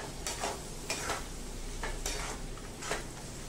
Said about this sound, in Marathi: ती म्हणे हे दाणे पण असेच नंतर घालायचे आणि त्या भाजी बरोबर छान मस्तपैकी त्याच्यामध्ये परतून घ्यायचे